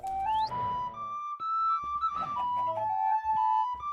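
An eagle bone whistle is played in the modded game Minecraft SevTech Ages, giving a clear, close, shrill melody of sliding, wavering pitched notes that carries on alone for several seconds.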